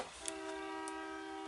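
A passing train sounds a long, steady horn blast that holds for the whole moment, with a faint rumble of the rail traffic beneath it.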